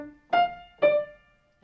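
Two separate piano notes ring out from the left hand in the two-note motive of Rachmaninoff's Prelude Op. 32 No. 8. Each note is struck cleanly and left to sustain with rich overtones, and the pair is followed by quiet.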